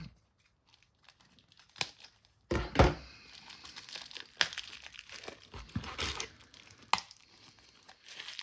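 Plastic packaging around PCBs being unwrapped and torn open: sporadic crinkling and tearing close by, with quiet pauses between bursts and a few louder rips.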